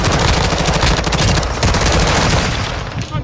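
Sustained automatic gunfire in Call of Duty: Modern Warfare II, dense rapid bursts of shots close and loud throughout, with a busy battlefield din and no clear talk.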